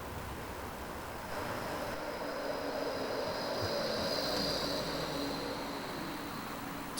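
A tram passes as a steady, continuous rumble with broadband noise and a faint whine, holding at a fairly even level throughout with no voices.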